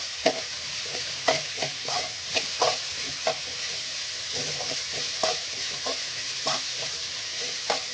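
Tempering for chilli chicken with capsicum and onion sizzles steadily in a pan while a spoon stirs it, making repeated scraping clinks over the hiss, close and without talk.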